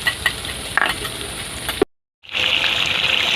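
Water goes onto turmeric to make a paste, with a few light clinks and scrapes, a brief silent gap, then a loud, steady hissing rush close by.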